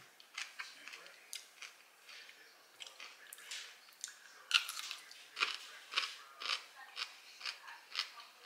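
Crisp crunching bites sound close up while someone eats a low-carb wrap with pickled radish at lunch, the chewing coming in a steady series of short crackly bursts.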